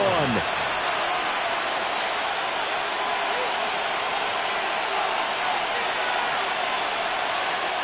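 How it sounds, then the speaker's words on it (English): Steady roar of a stadium crowd in an EA Sports football video game, a dense wash of cheering that holds at an even level throughout, with a brief swell at the start. "A big play here as the crowd noise rises."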